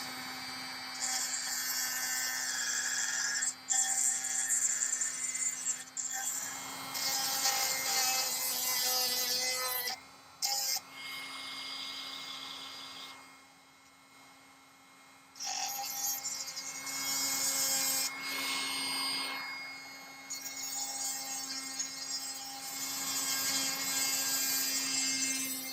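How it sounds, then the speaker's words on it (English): Silver Art Nouveau pendant held by hand against a grinder, a loud steady whine with a constant hum, pausing briefly a few times and dipping quieter midway before resuming. "And then I'm going to grind it like this."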